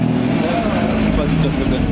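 A Porsche 918 Spyder sports car drives by on a street in Knokke, its engine making a loud, close, steady mid-range roar for the whole moment while people talk over it.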